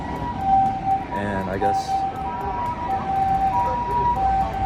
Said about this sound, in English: that's the Japanese ambulance for you